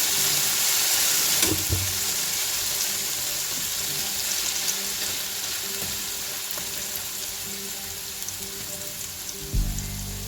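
Carrots, green pepper and red pepper sizzle steadily in a hot pan for breakfast, a continuous close frying hiss with a few faint stirring clicks.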